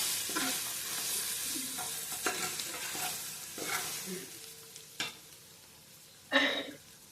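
Steady sizzle of a pan sautéing for chicken biryani, with repeated stirring scrapes at irregular intervals and a louder clank of the spoon toward the end.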